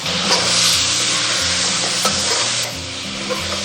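Sweet-and-sour braised pork ribs sizzle loudly in a wok as the sauce reduces over high heat, a steady dense frying hiss with stirring, dropping slightly in level partway through, no voices.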